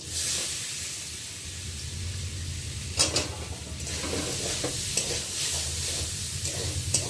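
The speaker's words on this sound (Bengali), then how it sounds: "যেহেতু অল্প তেল আছে ওই তেলের মধ্যে এবার সয়াবিনগুলোকে দিয়ে ভেজে নেব।" Soya chunks fry in a little oil in a pan with a steady, even sizzle and occasional stirring scrapes, all over a constant low rumble.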